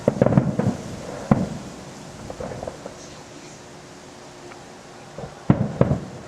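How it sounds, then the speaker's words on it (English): Fireworks bursting over a golf course at Turtle Bay in October, a cluster of sharp booming pops at the start, a single crack, scattered faint pops, then another loud burst near the end, echoing outdoors. "Somebody shooting off fireworks."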